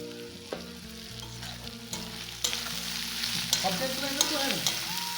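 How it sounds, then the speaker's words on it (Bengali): Onions frying in hot oil, a steady sizzle running throughout with occasional stirring scrapes and clinks, under a tonal music bed. "তেলটাও গরম হয়ে এসছে, তো পেঁয়াজগুলো দিয়ে দিচ্ছি, ভেজে নিব।"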